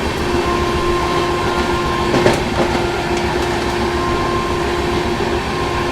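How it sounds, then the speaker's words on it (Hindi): New Delhi–Dibrugarh Rajdhani Express running on rails past Hasanpur Road Junction, heard from inside a 3AC coach: a steady, loud rumble with a constant hum and faint rhythmic clatter throughout, no voices. "हम लोग स्किप कर रहे हैं हसनपुर रोड जंक्शन और सामने में खड़ी है जानकी एक्सप्रेस ट्रेन"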